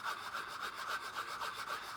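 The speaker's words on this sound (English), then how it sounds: "I'm just coming in with my sanding stick and going across, just like that" A sanding stick rubs across a plastic model kit part of the U.S.S. Reliant in quick, rhythmic back-and-forth strokes, close and fairly soft, with no talking.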